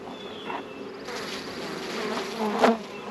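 Honey bees buzz steadily around an open hive during a spring inspection. The hum is close and continuous, with a brief louder swell as a bee passes near.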